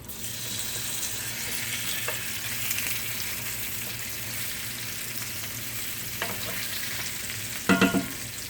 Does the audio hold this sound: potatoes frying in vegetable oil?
yes